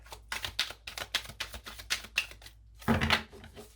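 A rapid series of crisp, papery clicks and riffles of tarot cards being shuffled, in bursts close by, ending in a denser rustle.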